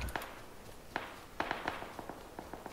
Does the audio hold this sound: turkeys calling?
no